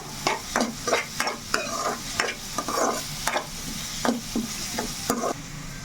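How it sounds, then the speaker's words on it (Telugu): Cucumber pieces fry in a pan and are stirred, a steady close sizzle broken by a rhythmic run of scraping stirs roughly every half second, with no talking. "దోసకాయ ముక్కలు కూడా బాగా వేయించుకోవాలండి."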